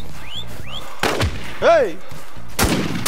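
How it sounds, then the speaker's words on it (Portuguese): Sniper gunshots in the video game Infestation: two sharp, loud cracks about one and a half seconds apart, one at the start and one at the end, with game sounds and a short shouted word between them. "Você ouviu o tiro, então, né?"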